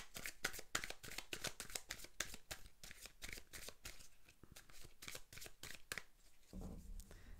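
Oracle cards shuffled by hand in a rapid run of crisp riffling flicks, fairly close, ending with a softer low rustle.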